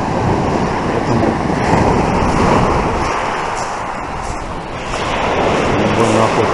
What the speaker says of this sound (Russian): море 6 часов вечера, сильные волны.